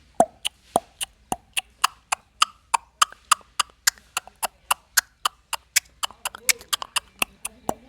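A voice artist imitating a horse's hooves walking on a paved road, producing a steady run of crisp, loud clip-clop clicks at an even walking rhythm, close and alone.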